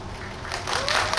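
Audience at a Korean film talk event at COEX breaking into applause, a dense wash of clapping that swells over about a second, fairly loud.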